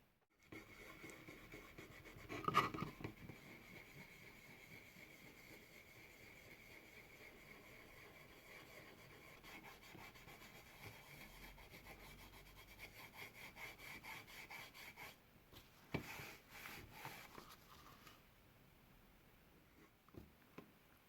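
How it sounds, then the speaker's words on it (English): A surface on an MP5 SD replica is scrubbed by hand, a steady, faint back-and-forth rubbing that carries on at an even pace, with a sharper scrape now and then and a few louder bursts near the end. "I'll just sort of do a little montage of me scrubbing away."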